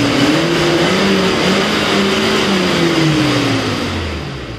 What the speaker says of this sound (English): Right now you can see the engine sound